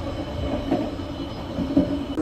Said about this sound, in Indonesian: Perjalanan kereta api Kahuripan sekarang tiba di stasiun Karanganyar, Kabupaten Kebumen.